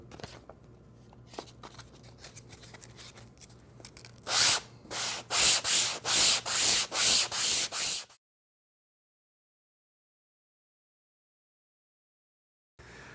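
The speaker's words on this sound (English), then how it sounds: "Put some fresh sandpaper on the bottom of my block" Fresh sandpaper on a block rubs back and forth along wood molding in about eight quick, even strokes, close and loud, following quieter scraping, then the sound stops into silence.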